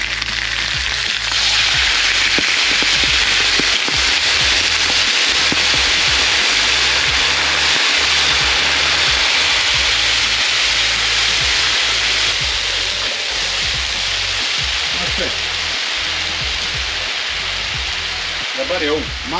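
A continuous rushing splash of water pouring into a pot, loud and steady throughout, with brief talk near the end.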